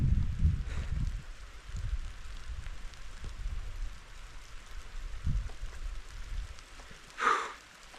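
Rain falls in forest on the Horton Plains, a soft continuous patter with low wind rumble and occasional handling bumps, fairly faint and steady.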